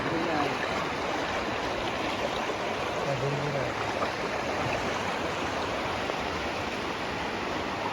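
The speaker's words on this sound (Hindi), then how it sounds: "तो बहुत स्पीड से अभी भी पानी आ रहा है।" Floodwater rushes fast across a main road near the Karbi Anglong border toward Hojai, a steady, loud broadband roar of flowing water that stays constant throughout.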